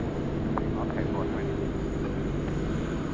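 An airliner begins its takeoff roll on runway 16 right at Sydney Airport, a steady distant engine roar under a loud spoken voice, with rumbling throughout.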